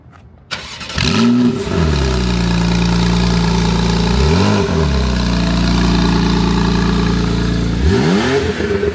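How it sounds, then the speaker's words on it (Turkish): A Porsche 911 cold-starts after a brief silence, catching with a sharp rise, then settling into a steady loud idle with two short blips of revs partway through. "Cold start."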